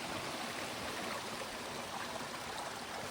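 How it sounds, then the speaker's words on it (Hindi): Small waterfalls and streams rush steadily beside a dense-forest trekking trail to Rudranath, a constant broadband wash of flowing water with no voices. "छोटे छोटे झरनों की आवाज़"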